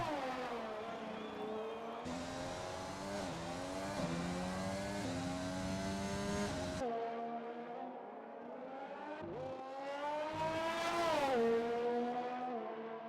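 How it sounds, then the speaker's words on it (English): A Formula One car in the F1 2020 racing game on the Canada circuit screams through its gears, the engine pitch climbing and dropping with sharp upshifts and a later rising pass, loud and continuous. "It is Liam, he's the first car out on track"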